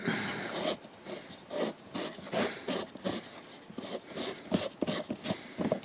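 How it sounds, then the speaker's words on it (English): A 45X wide-angle 58mm camera lens being unscrewed, giving short, close scraping and rasping bursts of thread friction in an uneven rhythm. "this is the 45X wide angle 58mm lens. So I'm going to unscrew it."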